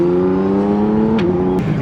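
A big-tire Scion FR-S race car at the TX2K22 drag racing event holds a loud, close, steady engine drone that drops in pitch around a gear change and then continues.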